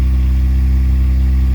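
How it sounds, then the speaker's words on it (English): A K20-swapped Honda Insight exhaust on a cold start at high idle, holding a loud, steady, close low drone with a faint rhythmic pulse and no variation over the brief stretch. "This is obviously a cold start with high RPMs"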